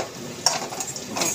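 Onions fry in a pan, a close sizzle broken by a few scraping stirs and light clinks of a utensil, with no voices.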